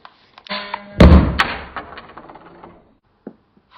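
A Hasbro 2015 Poe's X-Wing toy fires its spring-loaded missile at a box: a brief mechanical click is followed by a loud plastic thud and a short rattle of the toy parts as they settle, then quiet.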